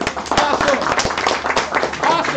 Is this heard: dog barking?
no